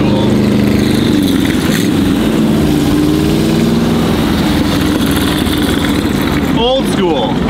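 A classic Corvette idles with a low, steady engine rumble along a busy beachside highway in Huntington Beach. Passing traffic and a brief whine come near the end, and voices talk over it.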